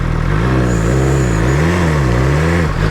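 A BMW S 1000 XR motorcycle engine revs close by on a road, a steady loud mechanical drone with pitch that swells and dips over about three seconds, alone without voices.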